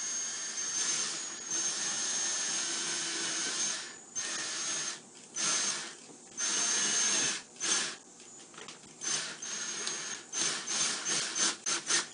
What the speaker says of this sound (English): I'm going to drill exactly where this hole says.